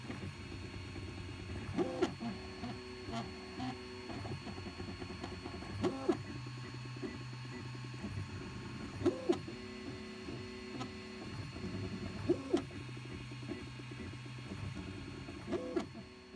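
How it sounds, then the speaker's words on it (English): A desktop 3D printer running a job, its stepper motors whirring and buzzing in steady layered tones with short periodic bursts of movement, close and continuous with no talk. "I ran it through my software for my 3D printer"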